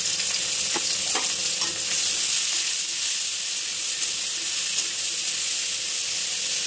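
Whole okra with salt and turmeric fries in hot oil, a dense continuous sizzle with occasional scrapes and clicks of stirring, close and even in level, no one speaking.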